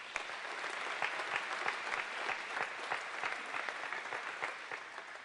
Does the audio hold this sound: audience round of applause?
yes